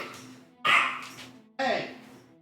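Dog barking in the video game New World: two loud, sharp barks about a second apart, close and clear over a quiet game background.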